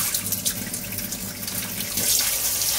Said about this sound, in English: chuck it in the sink with a load of cold water first of all, just fill it up